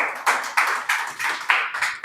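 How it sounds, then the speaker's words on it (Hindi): An open mic poetry audience claps in a steady rhythm, about seven sharp, evenly spaced bursts that are close and fairly loud, with no speech over them. "ताली बजाओ।"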